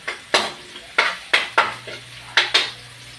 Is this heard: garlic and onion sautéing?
yes